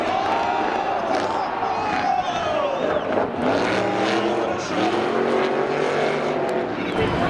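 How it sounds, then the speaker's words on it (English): Chevy drag car racing at Seekonk Speedway's spectator drags, a loud continuous engine roar with rising and falling pitch as it passes, mixed with crowd noise and an announcer talking over it. "There goes the Chevy."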